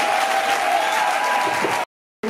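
An audience of students at a university women's month closing event applauds, a broad sustained clapping with a faint tonal hum beneath, cut off abruptly by a brief silence before resuming.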